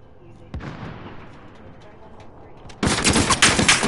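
Gunfire erupts in Call of Duty: Warzone: a sharp report near 0.5 s, then a loud dense volley of rapid shots from about 2.8 s, with background game noise under it.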